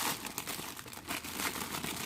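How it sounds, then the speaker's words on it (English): Plastic bag from a Marvel Legends Ares action figure package crinkles and rustles continuously for a couple of seconds, close and fairly loud, with uneven crackling bursts. "Plastic bag."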